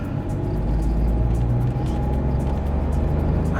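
A VW Polo Vivo GT engine pulls hard with a loud, steady low rumble that holds throughout, close up and with no talking.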